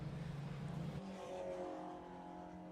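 Race car at Snetterton circuit during a 116 Trophy race, engine droning loudly then dropping in pitch as it passes by, the roar fading into steady background noise.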